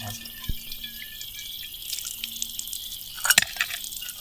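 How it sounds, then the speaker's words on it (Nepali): Water drips and splashes onto a hard surface at a campsite in Nickerson State Park, a few sharp close spatters standing out against a faint steady background, with a brief cluster of splashes near the end. "यो पानी उछिटेर यहाँ पर्छ"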